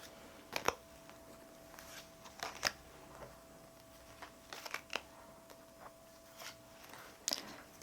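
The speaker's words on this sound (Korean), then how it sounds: "제가 4장의 카드를 뽑아 보겠습니다" Cards are handled and drawn one by one from a shuffled deck during a card reading, with soft, sharp snaps and slides spaced irregularly, close and quiet, with a faint steady hum behind them.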